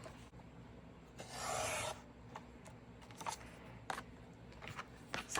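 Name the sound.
trimming a piece of paper for a mini album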